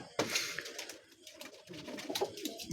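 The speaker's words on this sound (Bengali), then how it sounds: "এই খোপের উপরেই কবুতরগুলো অনেকগুলো কবুতর দাঁড়িয়ে আছে" Soft pigeon coos repeat in low, throaty bursts from many pigeons perched on a coop, fairly close, with faint background rustle.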